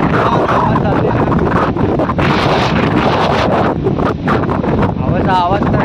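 Strong seaside wind roars and buffets the microphone in a loud, continuous rush with gusting swells, near the sea where coconut and cactus plants grow, with a voice faintly present beneath it.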